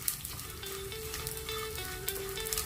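Edible gum (dink) frying in ghee in a pan, a steady soft sizzle and crackle with faint popping, close and continuous without any voices.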